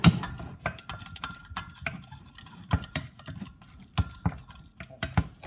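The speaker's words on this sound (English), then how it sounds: "So you can stir it with the knife." A knife stirs smashed bananas for banana bread in a bowl, giving a run of sharp irregular clinks and scrapes against the dish, close and fairly loud, with no talking.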